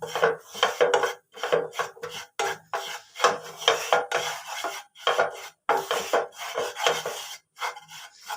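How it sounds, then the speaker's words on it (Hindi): Gram flour (besan) roasts over medium heat in a pan with spices, stirred steadily so a utensil scrapes the pan in quick, rhythmic strokes separated by brief pauses, close and clear. "अब डाल देंगे हम इसमें बेसन और इसे भी अच्छे से हम भून लेंगे"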